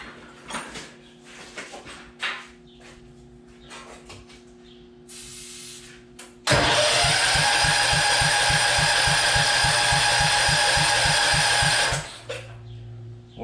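A beginner's pulling garden tractor engine cranks over without firing: a loud, steady run of rapid rhythmic starter pulses lasting about six seconds, preceded by quieter clunks and handling noises and followed by an abrupt stop.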